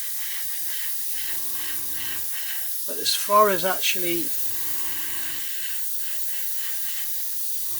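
A Gaahleri GHAC-98D airbrush lets out short, soft hissing bursts of spray, near and faint, around a few words of speech in the middle.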